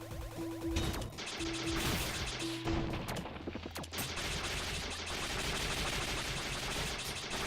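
Rapid bursts of gunfire from the video game Iconoclasts, loud and dense with crashing impacts, repeating over a steady backing track with no voices.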